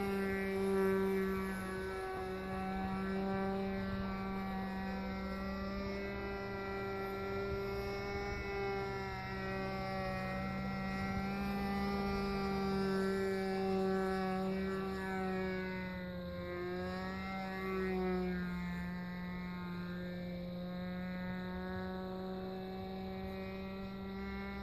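A SPAD FNS40 model airplane in flight, its small engine giving a continuous steady drone that holds for the whole stretch with slight pitch shifts as the plane banks and passes, no voices.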